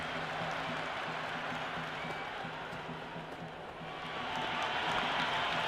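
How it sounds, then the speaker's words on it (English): Stadium crowd at an India vs Pakistan T20 cricket match in the Cricket 26 video game, a steady, loud, dense roar of cheering and applause that swells slightly near the end. "the excitement emanating from this crowd at the moment"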